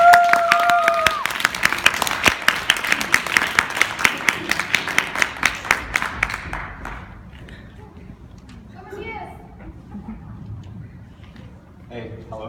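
An audience at a student talk event claps for an incoming speaker. A loud, brisk round of applause with distinct individual claps fades out after about six seconds into quieter room noise and murmuring.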